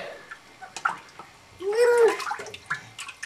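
Water sloshing and splashing as a small child plays with cups in bath water, with brief splashes and a fuller pour midway, and soft child vocal sounds mixed in.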